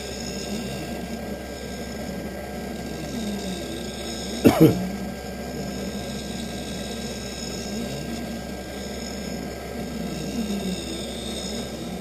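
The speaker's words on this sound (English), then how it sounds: "So now it's putting the bevel onto the lens so it stays inside the bevel of the frame." A lens edger machine cuts a bevel onto an eyeglass lens for a Ray-Ban 2132 New Wayfarer frame, producing a steady mechanical whirring drone broken by one short rattling burst midway.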